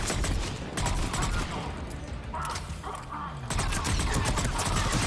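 Dense rapid gunfire in Mass Effect 3 fills the scene, sustained bursts with mechanical clatter and a brief lull in the middle before the shooting swells loud again, with faint talk mixed in.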